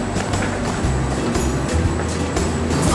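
A crowded city bus rolls along, its steady engine drone and road rumble filling the cabin with dense, continuous noise and no clear talk.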